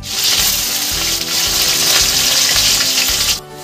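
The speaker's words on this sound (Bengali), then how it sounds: "তেল গরম হয়ে গেছে, এর মধ্যে আমি দিয়ে দিলাম বিনস।" Green beans sizzling loudly in hot white oil in a wok, a dense steady crackling fry that runs close and continuous before cutting off near the end.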